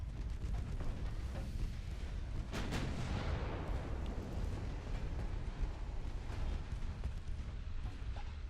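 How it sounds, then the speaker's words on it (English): Small ammunition detonation aboard a warship in the naval game Ultimate Admiral: Dreadnoughts: a deep, continuous rumbling roar of explosions and distant gunfire, with one sharper burst early on, steady and loud throughout. "Small ammo detonation there."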